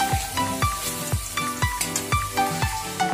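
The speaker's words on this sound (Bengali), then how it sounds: "আলুটা একটু ভাজা থাক ভালো করে" Potatoes fry in hot oil, giving a steady sizzle with repeated sharp clinks and scrapes from stirring. The sounds fall in a regular rhythm, close by, with no voice.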